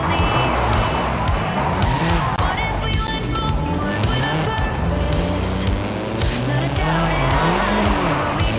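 In Forza Horizon 5 a car drifts around Drift Club Mexico, its engine revving loud and constant with wavering tyre squeal throughout, while a voice talks over the action.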